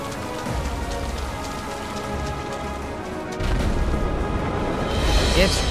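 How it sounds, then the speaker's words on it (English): Heavy pouring rain in the Kingdom Hearts 3 video game makes a dense, steady hiss of droplets that swells louder partway through, with faint low rumbles underneath and a person talking over it. "It's pouring rain"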